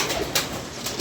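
Domestic pigeons kept in a loft coo softly in a few short, rounded calls over a faint background murmur.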